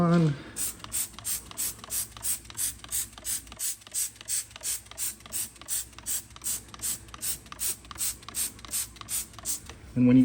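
Eagle One wheel cleaner is sprayed from a hand trigger sprayer, about two dozen short, sharp hissing squirts in an even, quick rhythm, close and clear, with a voice speaking briefly at the start and end.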